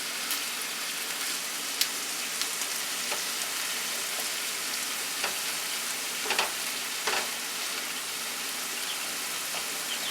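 Pork is stirred in a hot pan with ponzu and soy sauce, giving a steady soft sizzle with a few sharp clicks of the utensil and no voices.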